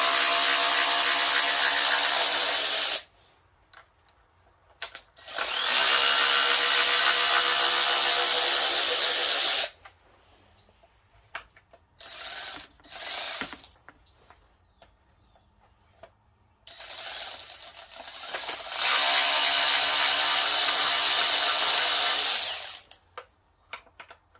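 A power driver removes the recessed T27 bolts from a Stihl FS36 trimmer, sounding as loud sustained whirring and ratcheting bursts close by, split by quiet gaps with a few brief clicks.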